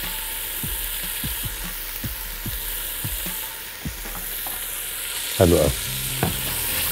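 Chicken fajita pieces frying in oil in a pan, seasoned with black pepper and salt, with steady close sizzling and a series of scraping stirring strokes, and a single short word spoken near the end.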